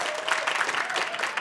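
Brief, dense applause and cheering from the crowd at an Albuquerque city council meeting holds steady at moderate volume, with a faint voice underneath.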